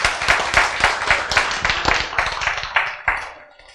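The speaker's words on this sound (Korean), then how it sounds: "박수!" An audience at a talk bursts into applause, a dense patter of many hands clapping close by that thins out and fades toward the end, with no one speaking over it.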